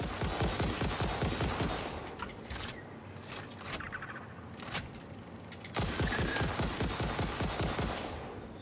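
Rapid bursts of gunfire from enemy-shooting combat in Satisfactory, loud and dense for the first two seconds, then sparser scattered shots, then a renewed sustained volley near the end.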